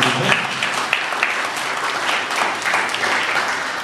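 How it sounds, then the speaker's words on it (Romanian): An indoor audience at a cultural centre autumn event claps steadily, a dense even patter of many hands throughout with no talk on top. "Vă rog să-i aplaudați pe cei care muncește în această echipă."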